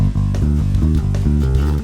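A bass guitar plays a driving, rhythmic rock line with repeated low notes, loud and close, alone without voices.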